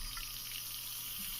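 Faucet water recorded while the tap is turned on and off, processed in FL Studio with EQ cutting the low end and volume automation: a steady, bright hiss of running water lasting about a second and a half.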